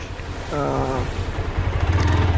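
Five motorbikes ride ahead along the beach at Cox's Bazar, a steady engine drone mixed with wind rush and surf, and a brief rising tonal whine in the middle.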